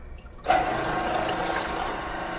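Mollar T800 airless paint sprayer machine starting up, an abrupt onset after quiet into a steady loud motor and pump whine with a hissing, buzzing drone that holds constant.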